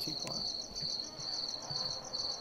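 Crickets chirping in the zombie survival game The War Z, a steady pulsing trill running through the whole stretch at a fairly quiet level, with a soft click near the start.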